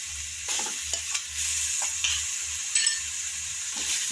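Vegetables for a vegetable biryani being sautéed and stirred in a pan with spice powders, a steady close sizzle broken by repeated scraping stirs and a low rhythmic hum underneath, no voices.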